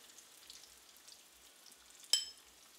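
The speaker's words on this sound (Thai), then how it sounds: "ก็ผัดจนให้กระเทียมกับหอมมีกลิ่นโชยขึ้นมาเลยค่ะ" Garlic and shallots stir-frying in a pan give a faint, soft sizzle, quiet and close, with one sharp clink of a utensil against the pan near the end.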